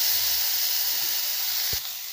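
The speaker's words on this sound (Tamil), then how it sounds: "போட்டு நல்லா வதக்கிடலாங்க" Ginger garlic paste sautés in a pan with onion and tomato, a steady hissing sizzle close by, with a soft knock near the end and no talk.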